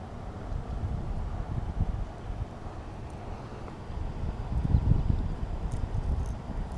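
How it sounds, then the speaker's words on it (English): Steady wind blowing onto a lake bank while bass fishing, a continuous low rushing with mild gusts that swell louder near the end, with no one talking. "The wind's blowing into this bank."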